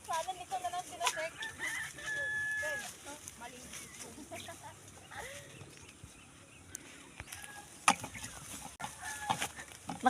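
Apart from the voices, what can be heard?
chickens clucking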